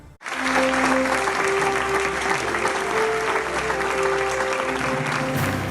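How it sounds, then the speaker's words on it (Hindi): A crowd at an Oxford University convocation ceremony breaks into sustained, loud applause that starts abruptly and continues evenly, with a faint tone ringing beneath the clapping. "तालियां बज रही हैं ऑक्सफोर्ड यूनिवर्सिटी के दीक्षांत समारोह में"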